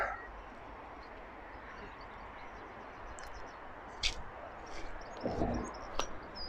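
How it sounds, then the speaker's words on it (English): Faint, distant seagull calls rise now and then over a soft outdoor wind hiss in Deansgrange Cemetery, with a brief louder cry near the end. "you can hear all the seagulls."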